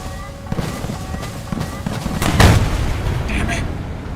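A Gripen E fighter jet fires missiles in a video game air battle, with several sharp launch bursts and a louder whooshing blast near the middle over engine rumble and cockpit warning tones, while someone talks over it.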